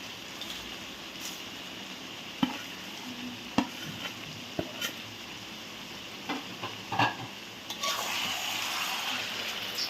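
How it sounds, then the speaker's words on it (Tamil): Curry leaves and dried red chilies fry in hot oil for honey chicken, a soft, steady sizzle broken by several sharp clicks and scrapes of stirring, growing a bit louder and fuller near the end. "இப்போ நம்ம கருவேப்பிலை, சிறையால், காஞ்ச மிளகா வறுத்து வச்சுருக்கோம்"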